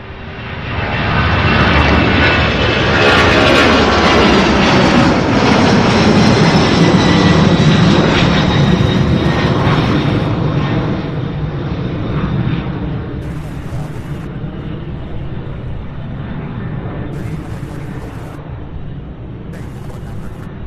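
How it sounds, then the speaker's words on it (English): A UPS plane takes off at Louisville International Airport, a loud, close jet roar that builds quickly, holds at full power, then slowly fades as it climbs away, with brief voice fragments near the end. "Beautiful takeoff. This one going, I believe, to Fresno."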